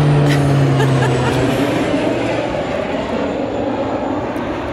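Airplane engine droning overhead near an airport, a loud steady roar with a low tonal hum early on, fading slightly as it passes, no talk.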